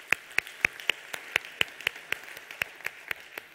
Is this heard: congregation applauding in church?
yes